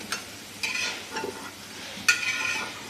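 Garlic frying in oil makes a soft, quiet sizzle, broken by several scraping, clinking stirs of a utensil against the pan.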